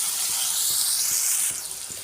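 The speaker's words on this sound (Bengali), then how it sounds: "এই জলটা মরে যাবে, তারপরে আমি মাশরুমটা কিন্তু ভেজে তুলব।" Mushrooms frying in a pan as their released water cooks off, a steady bright sizzling hiss with faint scraping clicks of stirring, close and continuous.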